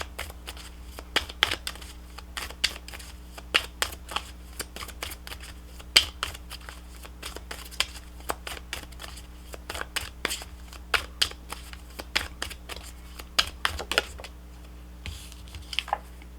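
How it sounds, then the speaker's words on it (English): Tarot cards shuffled and pulled from a deck, producing a long run of crisp riffles and snaps at uneven intervals, up close, with a low steady hum underneath and no voices. "Let's pull a couple more cards, guys."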